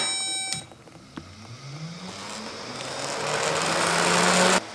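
Electric radiator fan wired with reversed polarity, its motor spinning up after a click with a rising whine and growing airy rush that builds steadily until it cuts off abruptly near the end.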